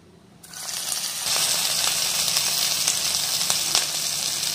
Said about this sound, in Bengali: এবারে আমাদের মাঞ্চুরিয়ান বলসগুলোকে এক এক করে আস্তে আস্তে ফ্রাই করে দেব